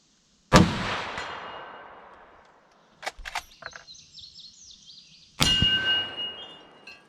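Rifle bullets from a 1915 SMLE No 1 Mk III striking a steel gong target. Two loud shots each ring out with a long metallic decay, and a brief fluttering chirp sits between them.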